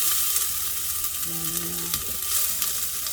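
Carrots are tossed into a hot pan and stir-fried for a spicy noodle soup with mixed vegetables, making a loud, steady sizzle with scraping stirs and a brief tonal squeak in the middle.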